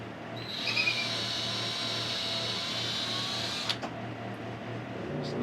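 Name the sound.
power drill drilling mounting holes in panels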